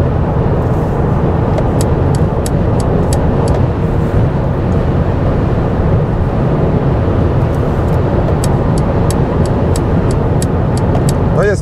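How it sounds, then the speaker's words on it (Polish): Steady, even road and wind roar inside a Mercedes EQA 250 electric car cruising at speed, a broad continuous hiss and rumble with no voices, faint periodic ticks above it. "Teraz chwila ciszy, żeby posłuchać, jak auto jest wygłuszone, jak się rozkładają szumy."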